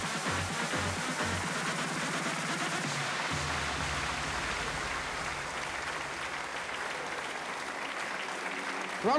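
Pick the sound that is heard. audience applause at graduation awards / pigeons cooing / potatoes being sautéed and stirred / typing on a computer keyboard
audience applause at graduation awards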